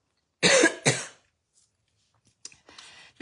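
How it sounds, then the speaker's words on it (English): A person gives two loud, close coughs in quick succession, followed after a pause by a couple of fainter throat-clearing sounds. "Does anyone get that nagging cough?"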